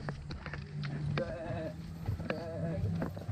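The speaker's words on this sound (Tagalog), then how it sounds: "Kambing." A goat bleats a few times outdoors on a mountain descent from Mt. Ayaas toward Wawa Dam, the wavering cries rising over a noisy background with faint voices nearby.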